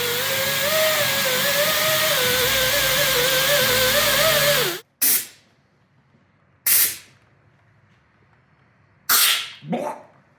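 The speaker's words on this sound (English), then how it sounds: "We'll flap disc that." A flap disc grinds on a car part, a loud continuous whining grind for several seconds that cuts off, then short bursts of grinding with quiet gaps between them.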